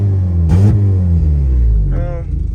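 A K-swapped car stuck in limp mode revs, engine rumble swelling and falling in pitch up close, with a voice speaking briefly over it.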